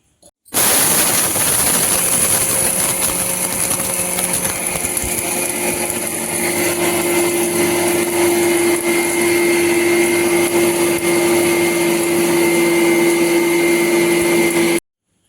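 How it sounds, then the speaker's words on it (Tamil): A mixer grinder runs raw mustard seeds, fenugreek seeds and salt for avakkai mango pickle. It makes a loud, steady motor whir with a high whine that holds unbroken for about fourteen seconds after a sudden start. "இப்போ வந்து இந்த கடுகு வெந்தயம் உப்பு போட்டு அரைச்சிக்கலாம்"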